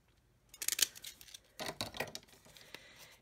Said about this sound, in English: And then these are Fiskars shaped scissors.